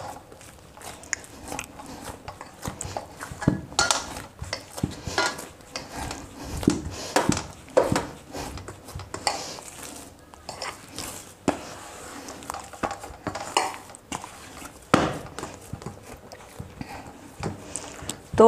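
Naan dough, oiled hands working it against a surface, gives off irregular close squishes, slaps and soft thuds with brief quiet gaps between.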